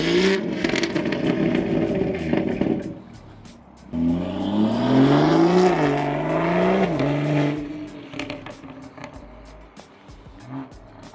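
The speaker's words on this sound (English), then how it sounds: "rev it a couple times" A BMW 328 engine revs up twice, rising and falling in pitch with a throaty roar and turbo spooling, then settles back to idle.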